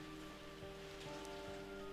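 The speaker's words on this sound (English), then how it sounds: "Please do apologise the loud rain" Loud rain falls steadily and continuously throughout, a dense hiss over a persistent low hum, with no speech.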